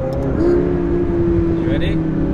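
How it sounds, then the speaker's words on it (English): McLaren P1 hybrid supercar engine with turbo, a loud steady droning note that rises slightly and holds, close and continuous with a brief high whistle near the end. "drop gear and listen to the sound of that turbo"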